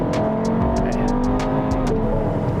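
MINI Countryman engine running in Comfort mode, a steady moderate hum heard from inside, with a row of light repeated ticks or clicks over it, no talking.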